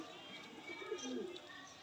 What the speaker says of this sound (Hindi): और ऐसे कबूतर हैं जिनको दाना डालते भी मज़ा आए